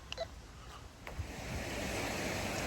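Water pours through opened canal lock paddles, starting with scattered splashes and swelling after a second or so into a steady, loud rushing roar that fills the rest of the clip.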